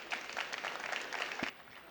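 A short burst of applause from a small crowd, steady clapping for about a second and a half before it fades out.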